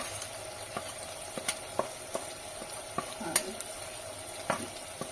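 Chillies, tomatoes and masala fry for Agri Koli chicken, giving a faint, steady sizzle broken by light scattered clicks and stirring knocks from the pan, with no talking.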